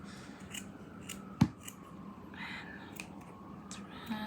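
Scissors snip once through felt fabric while a small play pizza is being made, a single crisp cut standing out against a quiet background.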